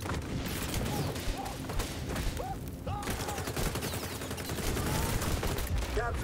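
Gunfire in the shooter video game XDefiant: dense, continuous crackling bursts of rapid shots, loud and close, mixed with a voice talking over the action.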